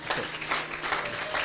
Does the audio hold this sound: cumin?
no